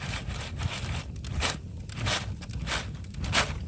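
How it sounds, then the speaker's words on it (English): Tortilla chips heating in a metal basket over a campfire, a close, steady crackling and sizzling with faint popping, no talk. "You can actually hear these things sizzling like they're coming out of the fryer."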